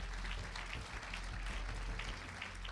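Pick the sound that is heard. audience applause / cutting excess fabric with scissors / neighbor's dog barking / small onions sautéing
audience applause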